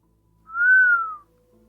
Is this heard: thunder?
no